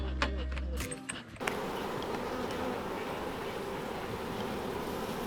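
Bees at an opened beehive in Antigua make a dense, continuous buzzing swarm drone that fills the whole clip after a short burst of other noise at the start.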